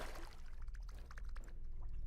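Lungs slide into water in the video game Autopsy Simulator, giving a soft, steady wet wash and gentle trickling that lasts about two seconds at low level.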